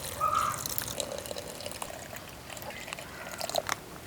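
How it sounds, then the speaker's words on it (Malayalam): A thin stream of milk pours steadily with soft trickling, faint and close, ending with a few light splashes. "ഇനി പാലൊഴിക്കാം"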